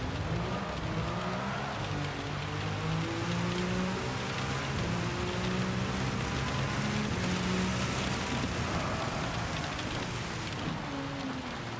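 A race car laps a wet track in the Gran Turismo 7 video game, its engine droning and rising and falling in pitch through gear changes under a steady hiss of rain spray, with no talking.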